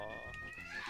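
A house cat meows briefly and close by, partly under people talking during a Super Smash Bros. Melee tournament stream.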